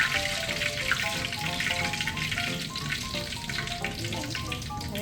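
Pieces of chicken frying in hot oil, a steady crackling sizzle with busy popping spatter that holds evenly from start to finish, fairly quiet and close with no talking.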